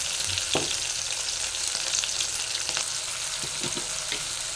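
Onions frying in a pan with a sprig of curry leaves and three green chillies, a steady broadband sizzle throughout with a few soft stirring knocks, close and continuous with no voices.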